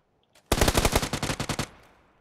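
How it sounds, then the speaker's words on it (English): Automatic gunfire in PUBG, a single rapid burst of about a dozen sharp shots fired close, lasting just over a second and trailing off, alone without talk. "One's trying to shoot me from the right of the tree"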